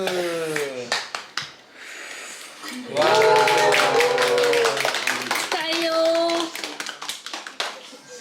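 People clap at a child's first birthday party, with scattered near claps between voices, including a child's, and singing or chanting voices over the clapping.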